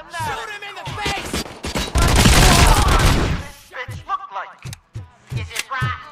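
Gunfire bursts in the Robocop Rogue City video game, a dense loud volley in the middle amid shorter sharp shots and voices of game characters.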